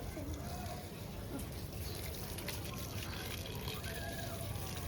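A garden hose runs water into a plant pot in a steady, continuous gurgling stream, close by and moderately loud for the whole stretch, with faint background noise underneath.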